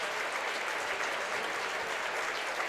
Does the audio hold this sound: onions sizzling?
no